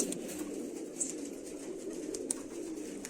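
Soft, low cooing of racing pigeons nearby, a continuous murmur with a few faint clicks and rustles, no voices.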